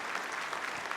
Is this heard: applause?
yes